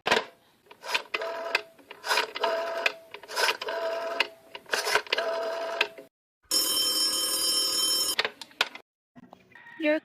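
In an old-fashioned radio drama, a telephone bell rings in repeated long bursts with short gaps between them, and a steady buzzing tone follows near the end. The sound is loud and close.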